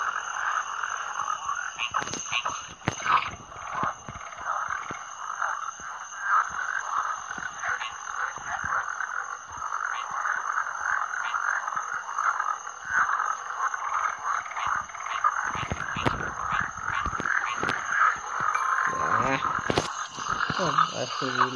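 Frogs croak in the Rusty Lake Paradise video game, a dense continuous chorus of rasping calls held at an even level under occasional sharp clicks and other game sounds.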